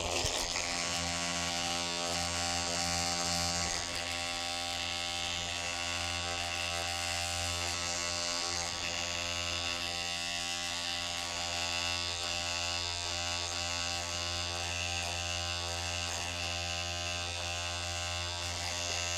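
An electric razor buzzes steadily and close up while shaving underneath a beard, a continuous droning hum with slight shifts in tone as it moves over the skin.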